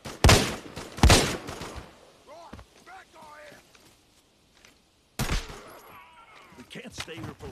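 Gunfire erupts in the mobile shooter Arena Breakout: two loud close bursts open the clip, then a pause with faint shouted voices and movement before another heavy burst of shots near the end.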